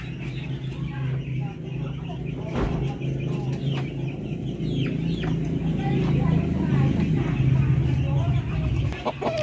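Darag native chickens cluck and murmur steadily at close range throughout, a dense farmyard chorus with scattered higher calls from other fowl.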